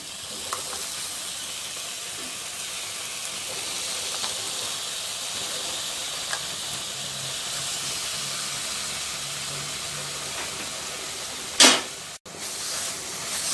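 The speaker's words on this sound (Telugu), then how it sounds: "కలుపుతూ 2 మినిట్స్ వేయించుకోవాలి, పచ్చివాసన పోయేంత వరకు" Ground amla paste fries in a pan while being stirred, giving a soft, continuous sizzle and hiss throughout, with a brief sharp clatter near the end.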